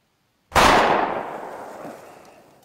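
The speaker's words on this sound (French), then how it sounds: "C'était quoi, ces coups de feu?" A single sharp gunshot cracks out of silence in a war film scene and rings into a long, fading echo.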